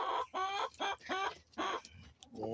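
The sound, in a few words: rooster clucking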